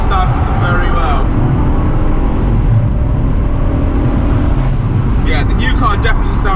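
A 2020 BMW Z4 G29 engine drones steadily while driving, a loud continuous low rumble with road noise, and people talk over it inside the car.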